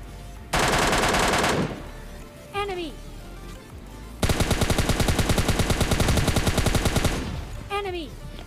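Rapid gunfire bursts in a fast-paced shooter game with a shotgun in play, two long loud rattling volleys separated by quieter moments with rising electronic chirps, heard close and without talk.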